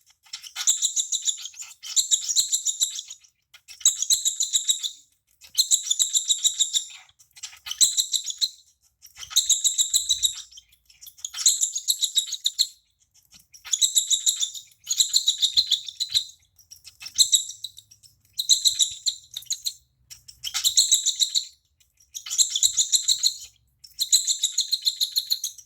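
Baby cockatiel chirping in steady repeated bursts of high, shrill begging calls, close and fairly loud, with short quiet gaps between bursts.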